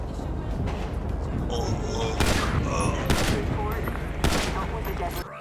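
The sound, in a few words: gunfire in Grand Theft Auto V video game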